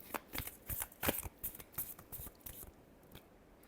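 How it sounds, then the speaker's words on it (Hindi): Tarot cards being shuffled by hand, a series of quick riffling and slapping bursts in an irregular rhythm, close and fairly quiet, tapering off at the end. "last shuffle"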